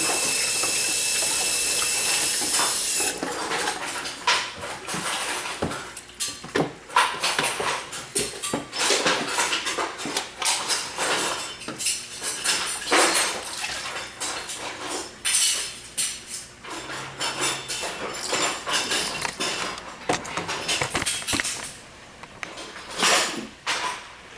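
Metal spoons clatter and clink against each other and a sink or dish surface while water runs from a tap, a busy kitchen cleanup before stirring homemade soap, with near, irregular knocks over the steady flow.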